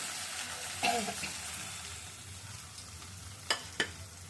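Potatoes with salt and turmeric sizzle and fry in a pan, a steady close crackle with a few sharp scrapes and clinks from stirring.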